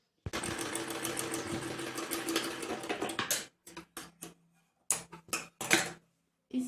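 A sewing machine stitches a fabric strip onto a baby frock, running in one steady, close burst for about three seconds, then stopping and starting in several short runs.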